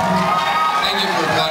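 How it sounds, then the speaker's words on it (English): Comedy club crowd at Toronto's Danforth Music Hall cheering and whooping after a stand-up joke, a dense, steady roar of voices throughout, loud and close, with shouts rising over the mass. "Thank you for applauding my ignorance."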